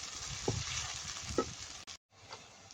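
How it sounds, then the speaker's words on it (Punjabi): Onions and spices sizzle in a pan with a soft, steady frying hiss and occasional stirring clinks, faint and close, no talking. "ਮਸਾਲਾ ਇੱਧਰ ਭੁੱਜ ਗਿਆ"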